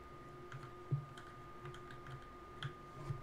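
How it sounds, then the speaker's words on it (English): Typing on a computer keyboard, with a sparse run of light, quiet key clicks at an uneven pace against a steady low hum. "Did all that typing, I think"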